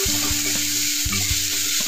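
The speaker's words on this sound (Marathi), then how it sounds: "कांदा मस्त आपल्याला लालसर करून द्यायचा आहे।" Finely chopped onion fries in a pan with a steady close sizzle, with light stirring scrapes now and then and no voices.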